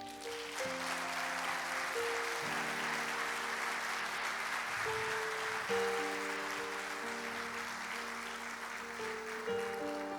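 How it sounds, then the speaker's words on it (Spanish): A church congregation applauds steadily for about ten seconds, dense and sustained, with sustained keyboard or organ chords playing underneath and no speech. "Dale un aplauso al Señor."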